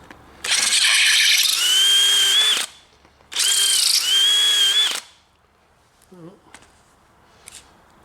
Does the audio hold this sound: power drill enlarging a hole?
yes